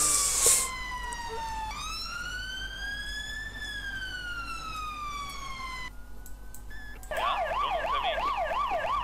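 Police siren in the Emergency 4 London mod video game, loud and continuous, sweeping through long wail tones before switching to a rapid yelp pattern, with faint background hum.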